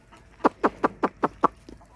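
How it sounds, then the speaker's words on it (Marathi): A chicken clucks in a quick, even series of six sharp calls, close by, followed by a fainter seventh; otherwise quiet. "इकडून कुठे तर कोंबडी ओरडली का."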